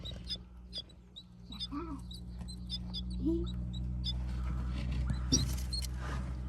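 Small birds calling loudly and repeatedly near an outdoor spot, high chirps scattered over a steady low hum, with a person talking at times in the background.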